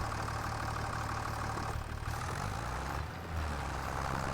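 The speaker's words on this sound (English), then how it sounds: "Tractor seems to be slowing down again just on this bit" Tractor engine labouring in Farming Simulator 25, a steady low droning rumble that continues without break, heard alone without speech.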